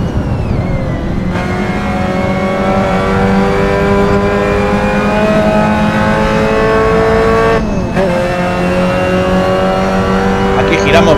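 A Mazda MX-5 Cup race car in Assetto Corsa at Lime Rock Park, its engine droning loud and steady at high revs with rising pitch, a brief gearshift dip, and someone talking over it.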